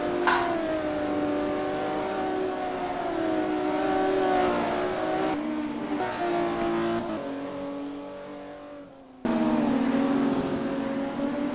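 Classic Porsche race cars in a sim racing game approach in a loud, continuous engine drone, with rising and falling pitch as several cars close in. A sharp cut and a brief dip come before the roar returns at full strength.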